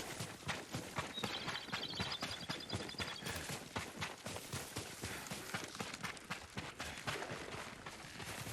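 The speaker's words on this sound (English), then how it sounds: "Yuriko's horse. She can't be far." Horse hooves in the video game Ghost of Tsushima clop in a quick, steady running rhythm, close and continuous, with a brief faint chime in the background and no talk.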